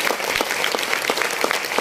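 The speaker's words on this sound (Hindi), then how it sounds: "पहले तो विजय सर के लिए, विजय पेडालू सर के लिए एक बार दिल से जोरदार जोरदार तालियां होनी चाहिए" An audience claps together at an event, a dense, fairly loud burst of applause on its own with no talk over it.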